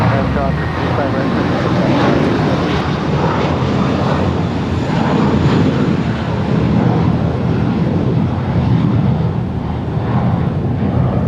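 An airliner takes off from runway 25 Right at Los Angeles International Airport, a loud sustained jet roar mixed with wind buffeting on the microphone, with a voice talking over it.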